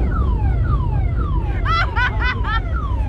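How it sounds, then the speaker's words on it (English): A car alarm at a nighttime car meet, set off by a nearby Dodge Challenger, cycles through falling siren sweeps and then rapid warbling chirps, loud over a low rumble of engines and crowd. "Challenger's setting off their car alarms."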